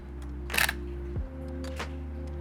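A camera shutter in a photo studio fires twice, brief quiet clicks about a second apart over a low background hum.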